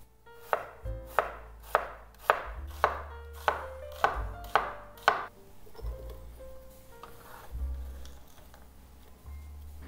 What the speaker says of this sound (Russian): И дальше нарезаем одну небольшую луковицу.